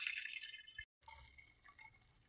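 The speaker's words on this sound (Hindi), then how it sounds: "अब ये छोटा जग ले लेंगे, छानी ले लेंगे, इसको छान लेंगे" Ground lemon mint drink is strained into a small jug, a faint close trickle and drip that stops briefly, then resumes more softly.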